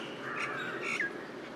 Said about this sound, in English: it muffles other bird calls. Yes, it is very loud, high pitched.